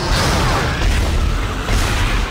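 A bomb detonates in the sci-fi horror game Dead Space, a loud, dense, sustained blast of rumbling noise filling the whole moment with no pause and no voices.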